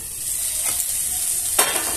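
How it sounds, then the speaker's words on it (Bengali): Potatoes and cauliflower fry together in a covered pan, giving a steady soft sizzle with two brief stirring scrapes, close and without talk. "এইভাবেই ঢাকা দিয়ে দিয়ে আমি আলু কপি একসঙ্গে ভেজে নেব"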